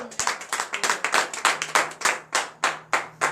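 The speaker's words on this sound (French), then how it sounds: "je vous demande d'applaudir très fort" A church congregation at a morning prayer service in Benin claps in a steady, rhythmic beat, with about a dozen loud, evenly spaced claps.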